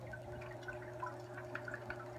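Water being poured into a bow front aquarium to top off evaporation: a faint, steady trickle and light dripping under a constant low electrical hum.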